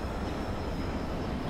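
A loud, continuous rumbling roar of a crashing airplane in the video game Dead Island, like a large aircraft engine, steady and close for the whole moment with no break.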